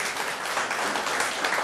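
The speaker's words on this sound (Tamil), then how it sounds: "எல்லாரும் கரங்கள் கைத்தட்டி அவரை பாராட்டணும்" An audience applauds at a motivational talk, a dense, continuous patter of many clapping hands that stays loud and steady throughout.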